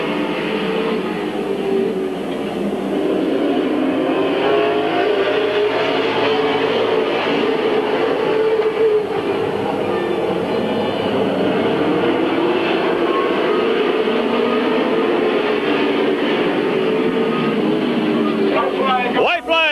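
Race cars lap Midvale Speedway at a 1996 race, a continuous loud roar of engines that swells and fades as the pack passes, with an announcer calling the race over it.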